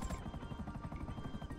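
Helicopter in GTA V Online, a steady low rotor chop pulsing rapidly and evenly, moderately loud and continuous, with no talk over it.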